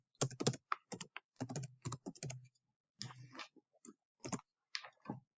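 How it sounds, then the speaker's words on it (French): Typing a number into a spreadsheet on a computer keyboard, a close, crisp run of key clicks in quick irregular clusters with short pauses, no voices. "j'écris 1789 dans mon tableau"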